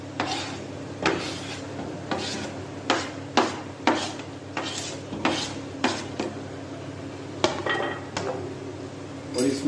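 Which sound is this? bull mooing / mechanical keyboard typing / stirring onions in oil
stirring onions in oil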